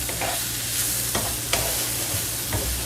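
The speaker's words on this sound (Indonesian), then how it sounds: "这个我炒一些这个哈" Food being stir-fried in a pan for a home-cooked lunch, a steady loud sizzle with intermittent scraping strokes of the spatula throughout, no talking.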